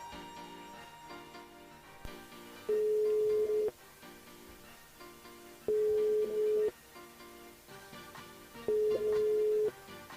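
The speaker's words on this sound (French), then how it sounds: "On appelle Josie du côté de Sainte-Rose." A telephone rings out as a radio show dials a listener on air, three long, loud tones about a second each, spaced evenly over a soft background hum.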